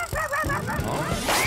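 A cartoon bird honks like a goose in a quick run of loud, close calls, followed by a brief rush that may be flapping wings.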